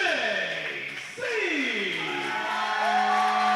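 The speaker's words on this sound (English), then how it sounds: "you want to talk about applause, you talk about an ovation" Cheering crowd gives wrestler DJZ an ovation at his entrance, a steady roar of voices that swells and holds throughout, with a few whoops and an announcer's voice rising over it.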